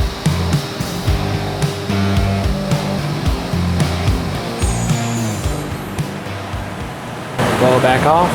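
A CNC machine blows air off a Porsche ultra lite flywheel. Steady tonal machine hum and a voice lead into a short burst of loud hissing air near the end.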